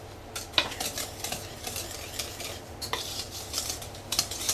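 Peanut butter cookie dough being mixed in a bowl, with repeated close scraping and clinking strokes of a utensil against the bowl in an uneven rhythm, no talk.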